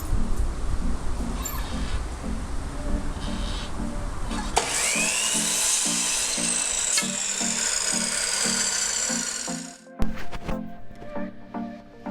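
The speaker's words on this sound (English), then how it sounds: "marked each corner where I was going to cut it at 45-degree angle and started cutting them to fit" A power saw cuts wooden trim pieces at 45-degree angles for a dresser makeover, its motor spinning up to a steady whining drone for several seconds before winding down, with rattling and knocking around it.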